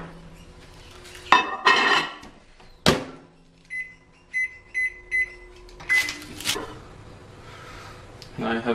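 A kitchen microwave oven heating a block of butter to melt it: a door clunk and clatter, then a run of short, clear electronic beeps, with more handling noise and light background sounds afterward.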